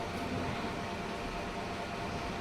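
Steady, even rumbling hum fills a busy railway station. It is a continuous wash of noise at moderate level, with no distinct events and no voices.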